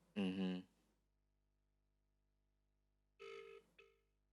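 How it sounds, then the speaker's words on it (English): A phone ringing on an outgoing call, with two separate ring tones a few seconds apart, heard clearly in an otherwise quiet room. "Let me even call my brother, because I know they're together right now with Bob."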